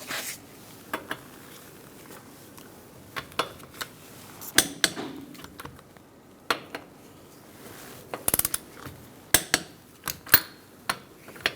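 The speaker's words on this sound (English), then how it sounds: "Using a 21mm socket, we're going to torque our lug nuts to 76 foot-pounds." Socket wrench on a 21mm socket torquing lug nuts on a 2002-2006 Toyota Camry wheel, heard as scattered sharp metallic clicks and clanks spaced irregularly over a quiet garage background.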